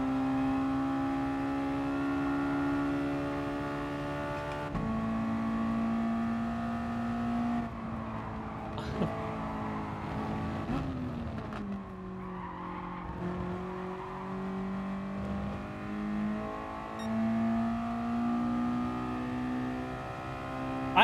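Race car engine in Gran Turismo Sport, a steady loud drone that shifts pitch with gear changes, with brief tire skids around the middle, running continuously throughout.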